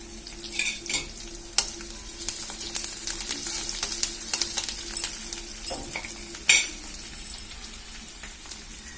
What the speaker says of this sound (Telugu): చూడండి ఆయిల్ అయితే వేడెక్కింది ఫస్ట్ జీలకర్ర ఆవాలు కరివేపాకు చూడండి కరివేపాకు వేగిన తర్వాత ఉల్లిపాయలు